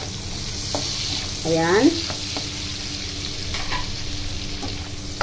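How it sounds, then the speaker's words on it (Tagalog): Ginger, onion and garlic sauté in a pan for sinigang na bangus, a soft steady sizzle close by with light stirring clatter and a brief clink, plus a single short spoken word. "Pagkalagay ko nga ng ating luya, ilalagay ko na rin ang ating sibuyas."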